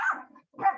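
A pet dog barks twice indoors, loud and close, with a short gap between the two sharp barks.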